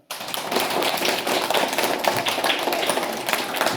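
Children in two third-grade classes at a school word contest clap together, a dense, steady patter of many small hands filling the room close by, with a faint voice or two underneath.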